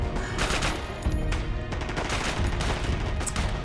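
Dense gunfire in a Marvel's Agents of SHIELD episode, a continuous clatter of rapid shots heard over a busy soundtrack for a few seconds.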